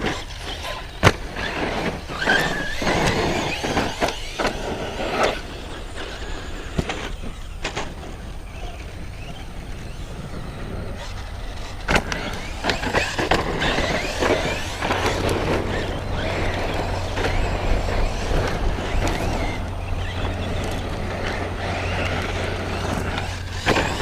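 Team Corally Dementor XP RC car on 6S power bashing around a small track: buzzy electric motor whine surging and cutting with throttle, sharp knocks and bumps from landings and hits, fairly close, with a steady low hum underneath.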